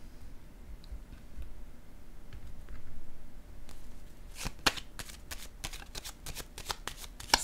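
Tarot cards shuffled near the microphone, first soft handling and then a run of sharp, rapid riffling flicks and slaps as cards are laid down, with no talking.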